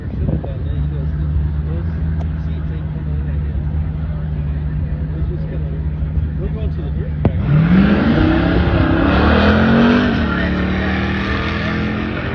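A Ford Mustang drag racing down a quarter-mile strip, a loud engine droning steadily and then rising in a revving pull as it accelerates, with someone talking over it.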